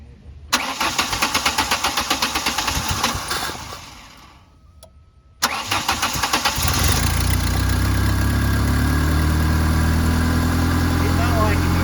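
A Ford engine, its throttle body just cleaned with brake cleaner, cranks with rapid ticking, pauses, cranks again and catches, settling into a loud, steady, low idle.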